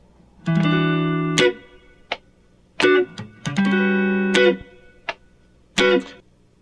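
Electric guitar playing chords from Boz Scaggs' Lowdown, several clean sustained strums interspersed with short muted string chucks in a loose rhythmic pattern, close and unaccompanied.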